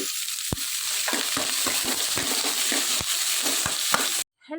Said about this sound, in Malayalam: കടുക് പൊട്ടിക്കാൻ ഇതൊക്കെ ഇടുന്നത്